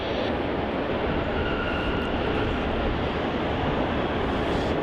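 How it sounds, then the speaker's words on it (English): Qantas flight QF672 from Adelaide lands on runway 34 at Melbourne Airport, producing a steady, loud, broadband jet roar that holds evenly throughout without a break. "Landing on runway 34, we have QF672 coming from Adelaide."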